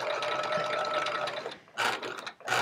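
A sewing machine stitches rows on a chevron-patterned quilt, its motor whirring in a steady run, pausing briefly, then firing in two short bursts, close and fairly loud with no talk.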